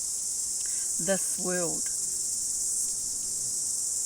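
Steady, shrill kihikihi cicada song buzzes continuously at high pitch throughout, with a voice briefly speaking underneath.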